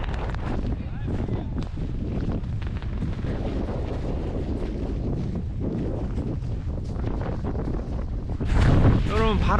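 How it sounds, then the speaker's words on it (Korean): Strong gusts roar steadily across the microphone in the Versailles palace garden, a dense buffeting rumble that swells harder near the end. "여러분, 바람이 너무 많이 불고 있어요."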